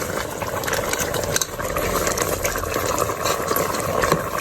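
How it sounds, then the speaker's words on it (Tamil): Steady bubbling of a meat curry at a rolling boil in a covered pot, a continuous close rumble and hiss with no voices. "இப்போ நல்லா கொதிக்குது."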